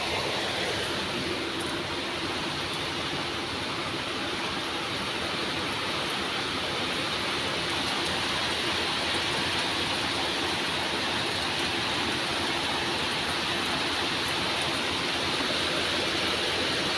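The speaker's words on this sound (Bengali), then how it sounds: "মুসুলধারে বৃষ্টি নেমেছে," Heavy rain pours down outside in a constant, dense wash of noise that stays level for the whole seventeen seconds, with no voices.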